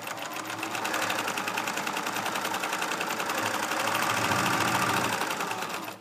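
A sewing machine stitches a waistband casing, running steadily at speed, its needle producing a rapid, even mechanical rattle that holds close and loud throughout with no voices.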